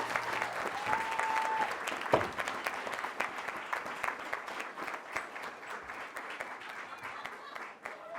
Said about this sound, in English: Let's keep up the applause,